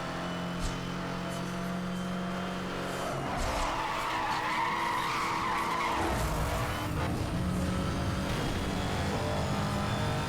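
A car drifts in Need For Speed Hot Pursuit Remastered, tires skidding and squealing through a long slide while the engine drones underneath, close and continuous, with the pitch shifting as the drift tightens and releases.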